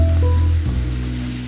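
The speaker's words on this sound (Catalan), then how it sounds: "Posem el bacó a torrar a la paella sense oli." Bacon toasts in a dry pan with no oil, giving a short, loud, continuous sizzle with a low steady hum underneath and no speech.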